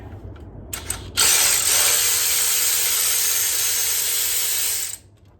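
A ratchet or power driver spins loose 10mm bolts on a 2015 Toyota Tacoma, a brief burst followed by a loud, steady, close whirring run of about four seconds that stops abruptly.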